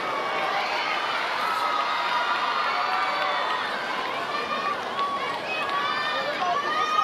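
Crowd at a Hong Kong badminton and table tennis exhibition featuring Olympic gold medallists, a continuous roar of cheering, shouting and scattered clapping, with a voice talking through it.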